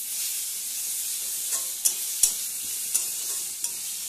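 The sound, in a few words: garlic paste frying in a pan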